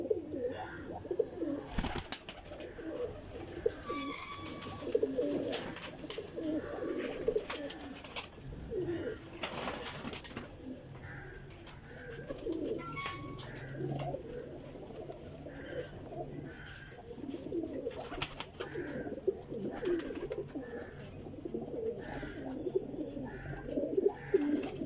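Pigeons coo softly in a loft, with repeated low, throaty calls recurring throughout over quiet rustling and faint chirps, no speech.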